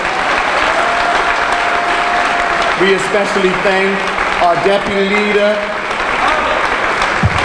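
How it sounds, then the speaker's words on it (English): An audience at a political party event applauds their party leader with sustained, loud applause and cheering throughout, while someone speaks over the clapping on a microphone. "Give her a rousing round of applause."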